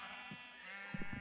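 A sheep in the video game Minecraft gives a couple of short bleats, quiet and close, over a faint steady background hum.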